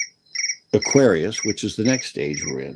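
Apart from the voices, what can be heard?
cricket chirping, a phone notification sound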